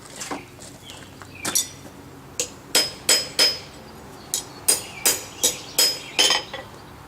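A hammer strikes a chisel on a hot nail during blacksmith forging, about a dozen sharp, ringing metallic blows, irregular at first and then in a steady rhythm, close and loud, with no talking.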